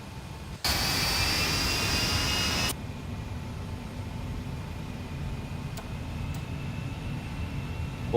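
Twin jet engines of an ERJ145 in X-Plane 12 at takeoff thrust give a loud, steady roar for about two seconds, then drop to a quieter, continuous whine and rumble.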